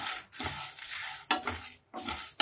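Whole spices such as cinnamon and cloves dry roasting in a pan for a sambar rice spice powder, heard as three bursts of stirring and scraping with a light crackle, separated by short quieter gaps.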